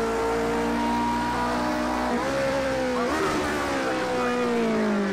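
Lotus 49 Cosworth race car in a racing video game at classic Spa, its engine droning loud and steady with gear changes and pitch shifts as revs rise and fall, no talk over it.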